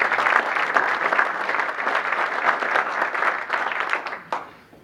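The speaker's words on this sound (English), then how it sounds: "Let's give them a round of applause." A room of Rotary Club members applauding at a weekly meeting, a dense, even wash of clapping held at steady loudness, then thinning and fading out in the last second.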